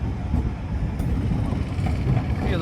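A passenger train hauled by locomotive 6601 rolls into Phultala railway station on the Mongla commuter line, a steady close rumble of wheels and carriages throughout with no pauses.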